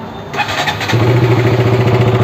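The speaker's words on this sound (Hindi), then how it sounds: "तो दोस्तों ये बाइक स्टार्ट हो गई है" A KTM Duke 200 motorcycle with about 34,000 km on it starts up, loud and close. A brief starter whir catches into a steady, throbbing single-cylinder idle.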